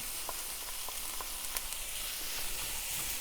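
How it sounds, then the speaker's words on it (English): Chopped onions and green pepper frying in a hot pan over medium heat, a steady close hiss with soft crackles and a few light pops. "now that my onions are a little, cooked, I'm going to add the green pepper"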